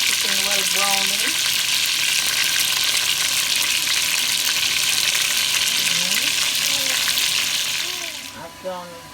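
Loud continuous sizzle of seasoned chicken browning in hot oil for Jamaican brown stew chicken, a spattering hiss with some stirring and faint voices, fading out at the end.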